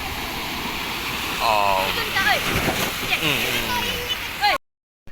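Waves surge and rush through a gutter under a seawall in a constant loud wash of water, with a voice talking over it throughout before it cuts off abruptly.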